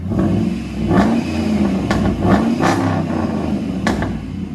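A Dodge/RAM 4.7L V8 Magnum with a loud true dual exhaust revs up repeatedly, a close, heavy, rumbling roar rising and falling in several sharp throttle blips over a constant idle growl.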